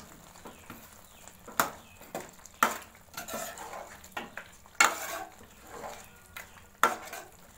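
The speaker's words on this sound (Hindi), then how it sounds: "अच्छी तरह मिक्स करेंगे।" A spoon stirs turmeric, white pepper and garam masala into chicken in a pan, giving sharp scraping clanks at irregular intervals over a faint soft sizzle, close and without talk.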